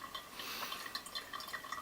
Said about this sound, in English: there is a wider rim where the water can drop and flow back